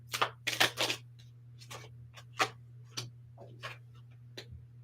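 Quick riffling and snapping of cards in short bursts, several clustered at the start then scattered flicks, close and fairly quiet over a steady low hum.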